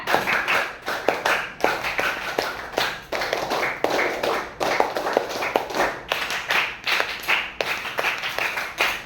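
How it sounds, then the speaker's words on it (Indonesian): A group claps the rhythmic Pramuka scout clap in a classroom lesson, sharp bursts of hand claps falling in quick, repeated patterns with short pauses between rounds. The clapping is loud and close. "Sekali lagi 3 kali tepuk pramuka."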